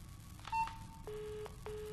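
A telephone in the Legacy video game gives a few short electronic tones, separate beeps and a held tone with small gaps between them, faint and standing alone without talk.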